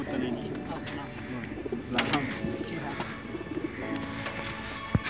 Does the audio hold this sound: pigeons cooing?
yes